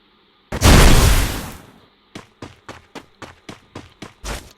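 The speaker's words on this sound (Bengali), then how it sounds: "গ্রেনেড মার।" A loud, booming grenade blast in the Free Fire video game, rolling off over about a second, followed by a quick run of soft, evenly paced footsteps.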